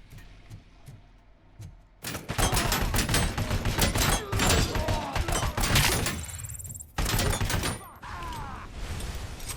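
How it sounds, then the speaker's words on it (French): Rapid assault rifle fire in the RoboCop: Rogue City video game, loud sustained bursts with thuds and impacts, after a few sparse shots at the start and a short break near the end. "Le fusil d'assaut il est un peu plus efficace quand même"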